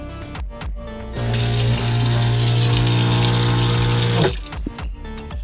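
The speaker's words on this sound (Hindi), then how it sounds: "Alexa turn on pump." Electric water pump in a Force Gurkha camper van runs steadily for about three seconds after a short pause, a loud close rushing flow with a steady hum, then cuts off.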